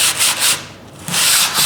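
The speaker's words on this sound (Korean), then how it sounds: "연마는 제일 먼저 120방 연마지로 이 합판 강목 전체를 연마를 하게 됩니다" Sheets of 120-grit sandpaper rub back and forth across a plywood panel in quick, close strokes, a rhythmic rasping swish with a short pause in the middle.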